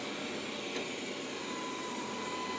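A Wyze lidar robot vacuum cleaner running, giving a constant close whir and motor hum with a faint high tone, steady and unbroken throughout.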